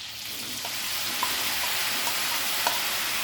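Paneer frying in about two and a half tablespoons of melted butter in a pan on a small burner over high flame, giving a steady, even sizzle with a few faint pops and no talking.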